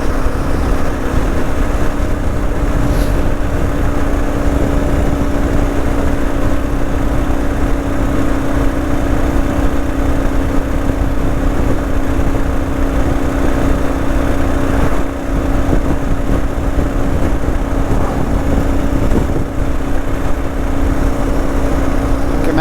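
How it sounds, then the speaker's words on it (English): A car engine works harder while cruising at about 95 km/h near 4,000 rpm on South Africa's N7 highway, a loud, steady droning hum with constant road noise and no talking. "maybe hear the motor working a bit harder."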